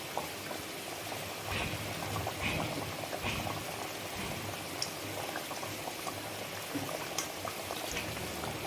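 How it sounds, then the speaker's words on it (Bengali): Fish curry, a parshe fish jhal, boiling in a pot in a home kitchen: continuous close bubbling and soft popping, steady and moderately quiet, with no speech over it. "তরকারিটা ফুটে গেছে।"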